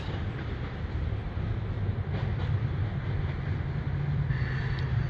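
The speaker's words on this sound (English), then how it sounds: "There's the end of the train." A CSX freight train rolls past a road crossing in Connersville, Indiana, a steady, loud rumble of cars and wheels that holds evenly without any talk.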